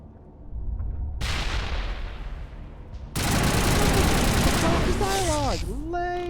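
Assault rifle fire in the sci-fi shooter Mass Effect, a steady roar of rapid shots that swells louder midway, with a voice talking over the gunfire.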